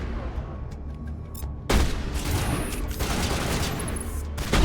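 Heavy video game gunfire, a rapid dense fusillade of shots and booms that jumps suddenly louder partway through and continues as a sustained barrage.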